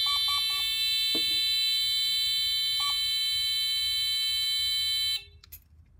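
A loud electronic security alarm at a carport rings steadily with piercing tones and a few short beeps, then cuts off abruptly near the end, leaving quiet.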